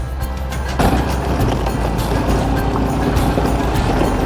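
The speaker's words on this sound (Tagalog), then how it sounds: "Gana iling motor nila eh." A motorcycle engine runs on a rural road in Bukidnon, with a steady rough drone that swells slightly a moment in and continues close and fairly loud.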